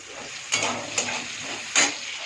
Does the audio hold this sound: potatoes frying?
yes